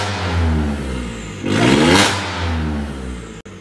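A Volkswagen Polo revs hard through its exhaust, a deep throbbing burble like a Bullet motorcycle that swells into a loud rising roar midway before settling back to a steady close rumble.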